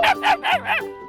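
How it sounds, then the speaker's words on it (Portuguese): A dog barks four times in quick succession, loud and close, each bark short and sharp with a brief gap between them, with no other sound around it. "Cachorro!"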